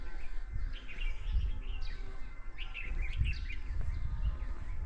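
Birds chirp and call repeatedly in the morning in the mountains at Mukteswar near Nainital, bright overlapping tweets over a low outdoor rumble, close to moderately near, with no one talking.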